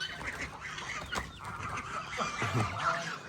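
A white Silkie hen on a farm clucks at and harasses a young chick, giving low, fairly quiet repeated clucks mixed with thin chick peeps, under faint background noise.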